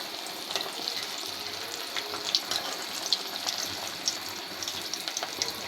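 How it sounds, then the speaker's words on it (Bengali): Chira batter fries on a hot tawa griddle with a steady, fine sizzle and small popping crackles throughout, fairly close and moderate in level, with no talking. "আমি তাওয়াতে দিয়ে ভেজে নিচ্ছি"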